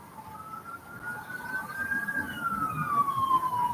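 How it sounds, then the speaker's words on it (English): An emergency vehicle siren wails in a slow rising and falling sweep from a street, growing gradually louder as it approaches over low traffic rumble. "I hear a shitload more sirens down this way."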